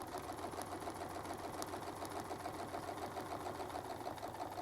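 A sewing machine fitted with a Westalee ruler foot runs steadily through quilting, its rapid needle rhythm holding an even, continuous pace close by with no talk.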